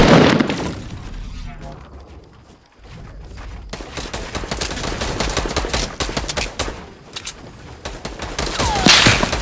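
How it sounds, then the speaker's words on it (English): Rapid bursts of gunfire crackle through a Fortnite Battle Royale match played with mouse and keyboard on PS4, dense volleys filling most of the stretch with sharp impacts and a brief lull near the start, while a player talks over the shooting. "Where am I getting shot from? I'm getting shot from two areas."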